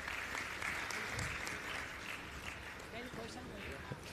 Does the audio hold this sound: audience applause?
yes